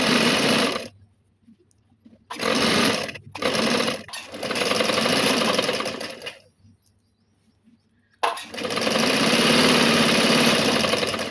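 A sewing machine runs in several bursts while double-stitching a seam on dress pants, a steady mechanical whir that stops and restarts, with short quiet gaps between runs.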